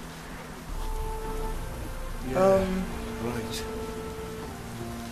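Steady hiss of rainfall in The Witcher 3: Wild Hunt under a man's brief speech and faint background tones, a wash of noise that continues throughout.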